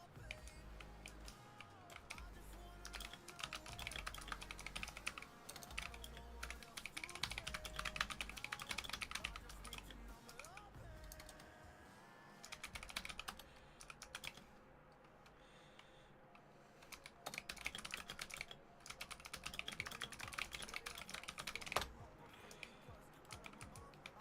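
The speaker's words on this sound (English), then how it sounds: "The keyboard is so clinky." Clinky computer keys clatter in quick, irregular bursts of close typing, with brief pauses between runs, while a Hypixel Skyblock game session goes on quietly in the background.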